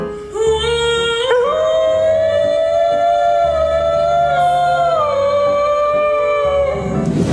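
A dog howls along to music, one long, loud, wavering howl that rises and holds over a steady musical backing for several seconds.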